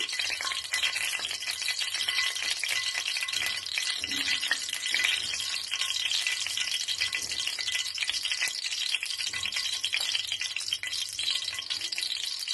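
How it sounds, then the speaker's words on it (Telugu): Tempering spices fry in hot oil with a steady, crackling sizzle, close and continuous, with occasional light stirring rattles and no talking, while brinjal fry is being made. "ఆయిల్ వేడెక్కిన తర్వాత పోపులు వేస్తాను."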